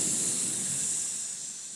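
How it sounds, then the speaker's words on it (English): A sizzle like a hot fajita tray, a steady bright hiss with a faint rumble underneath, heard alone and fading slightly toward the end. "That's the sizzle of the hot take."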